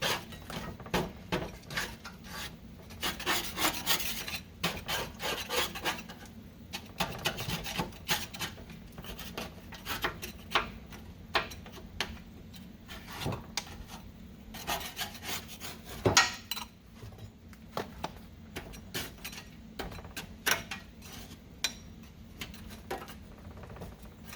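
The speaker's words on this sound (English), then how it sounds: "I'm going to come through here with a scraper, scrape all the dry stuff off" A scraper rasps dried grass off the deck of a Kubota Z251 mower in short, uneven strokes with scratchy bursts and pauses. It is close and fairly quiet, and no one speaks.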